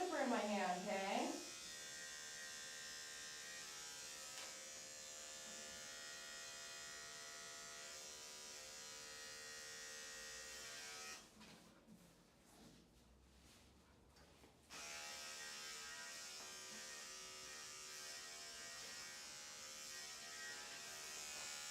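Electric clippers buzz steadily and close while grooming a doodle puppy, pausing briefly near the middle before resuming, with occasional talk over the hum.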